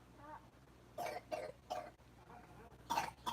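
Four short, sharp coughs spaced over a few seconds, fairly close, with a quiet room in between.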